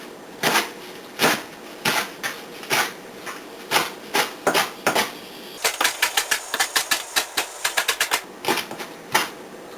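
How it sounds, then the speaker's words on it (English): A knife chops a handful of callaloo leaves: crisp, close clicks struck one by one, then speeding into a quick run of chops before slowing again. "They like to cut it up, so you could just grab a handful and chop it."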